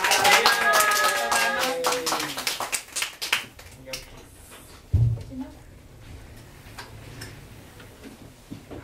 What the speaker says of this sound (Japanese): もう一度流れさんに拍手をお願いします